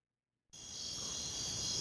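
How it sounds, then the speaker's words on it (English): Crickets chirp in a steady, continuous high-pitched drone that begins abruptly after a moment of silence and carries on alone at moderate volume, used as a comic sound effect. "Crickets."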